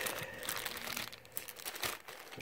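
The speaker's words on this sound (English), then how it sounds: "have a plastic bag of goodies here" A plastic bag holding accessories for a 2019 Gibson Les Paul Studio guitar crinkles steadily up close, rustling and crunching without a break and with no speech over it.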